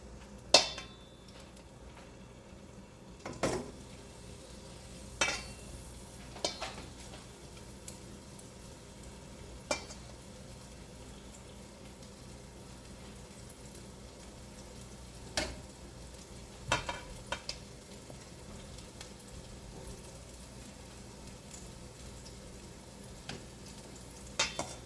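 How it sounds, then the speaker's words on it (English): A low, steady sizzle of beef short ribs frying in a pan, punctuated by scattered clicks and taps of utensils against the cookware. "I'm gonna go ahead on and start with my beef short ribs, and I'm gonna start frying them."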